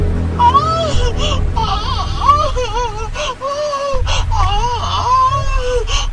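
A woman screams, wails and sobs in pain and anguish, rising and falling cries over a low rumbling background, close and sustained.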